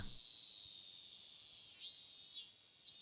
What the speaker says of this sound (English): The cicadas were making the same noises they did yesterday